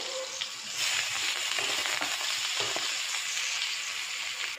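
Steady, loud sizzling of pointed gourd with salt and turmeric frying in a pan, a continuous bright crackle with a few soft stirring scrapes, no voices.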